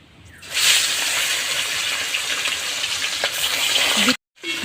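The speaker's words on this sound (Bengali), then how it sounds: "এখন তেল গরম হয়ে গেছে এখন আমি মাছ ভেজে নিচ্ছি" Fish sizzling and spitting as it fries in hot oil, a loud, steady broadband hiss that starts abruptly after a quiet moment, with a brief drop near the end.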